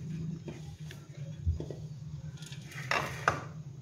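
A spoon stirring ingredients for alsi pinni in a bowl makes a few quiet scattered clinks and scrapes against a soft background hum.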